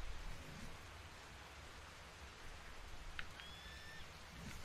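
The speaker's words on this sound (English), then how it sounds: "maybe they updated the rain effect on all the maps like to be like this." Rain falling in the video game Ark, a steady, soft wash of rain noise throughout with a faint tonal chime partway through, quiet and with no talk.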